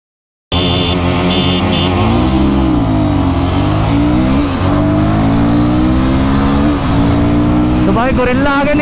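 A Guerrilla 450 and an Apache RR310 motorcycle accelerate hard in a drag race, loud close engines rising and falling in pitch through gear changes while someone talks over them.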